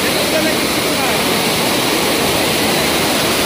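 Rushing water pours loudly beside stone steps on a family outing, a steady broadband roar filling the whole clip with no break.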